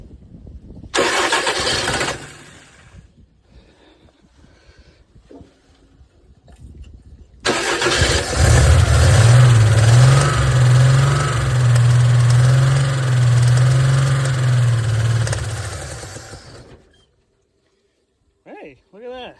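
A 292 Chevrolet engine firing for the first time by remote starter, with a short burst of cranking, a pause, then a loud start that settles into a rough steady idle for several seconds before cutting off.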